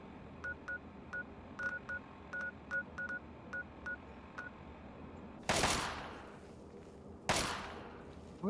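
Two sharp, loud gunshots about two seconds apart, each with a ringing decay, fired by a video game character practicing shooting, after a run of quiet electronic beeps.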